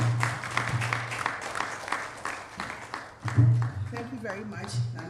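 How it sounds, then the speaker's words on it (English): Audience at a peace and security forum applauding, a steady spread of clapping from a seated crowd with a voice speaking over it and some low hum in the room. "A round of applause for him."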